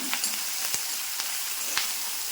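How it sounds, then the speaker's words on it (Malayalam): Monthan plantain masala frying in oil, a constant close hiss of sizzling with a few light taps and pops from stirring and no talking. "ഈ എണ്ണയ്ക്കകത്ത് കിടന്ന് ഇതൊന്ന് മൂത്ത് വേവട്ടെ"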